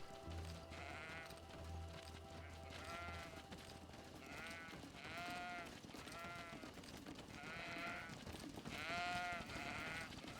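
Sheep in the video game Greedfall bleat repeatedly, about six wavering calls spread across the stretch, fairly close and clear over a low ambient game background.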